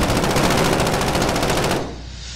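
Rapid automatic gunfire from hip-firing in Call of Duty Warzone rattles out in a loud, continuous burst for nearly two seconds, then cuts off into a lingering noisy tail.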